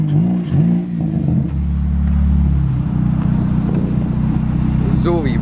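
A Honda Civic Si sits on a two-step launch limiter, its exhaust held at a loud, choppy rev that rises and wavers nearby, with people talking over it.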